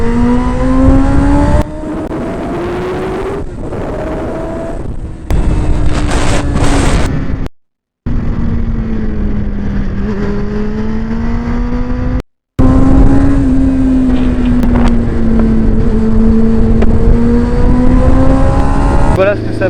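A 1998 Kawasaki ZX6R sport motorcycle ridden dynamically through curves, its engine note rising and falling steadily with revs, dropping out briefly twice, with wind noise throughout.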